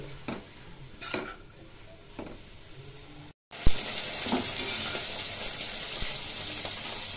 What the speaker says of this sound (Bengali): শাক ভাজা আমার প্রায় হয়ে এসছে